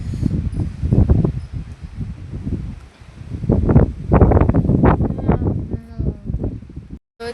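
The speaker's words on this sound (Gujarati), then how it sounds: "પવન બહુ" Strong wind gusts buffet the microphone outdoors at a farm field after rain, a rough low roar that rises and falls in surges, loudest in the second half, with faint rustling mixed in.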